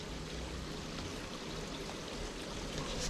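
Water pouring steadily from the cleaned shower section of an Evolution Aqua Tempest koi pond filter, a continuous close splashing rush with no pauses.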